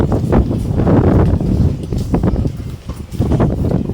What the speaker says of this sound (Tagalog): Mahangin-hangin pa rin.